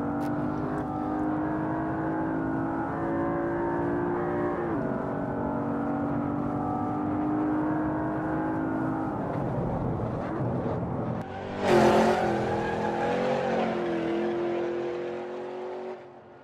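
Steady car engine drone with shifting pitch as it threads canyon road turns in Los Angeles, swelling into a louder revving burst near the end before easing off; no talking.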